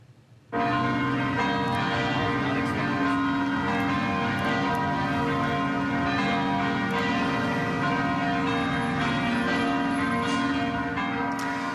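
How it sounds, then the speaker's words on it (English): Church bells at a basilica peal continuously and loudly after a new pope's election, overlapping strikes ringing out with a rich, sustained resonance and no voices. "bells rang out once the new pope was announced"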